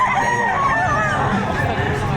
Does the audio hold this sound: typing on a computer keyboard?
no